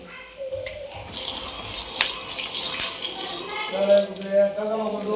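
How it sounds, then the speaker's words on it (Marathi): Running water from a tap splashes steadily as flat beans are washed, with someone talking over the flow near the end. "घेवड्याची शेंग धुवून घेतली आता चांगली स्वच्छ"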